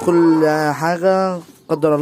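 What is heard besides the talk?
No distinct noise like a dog, phone or traffic.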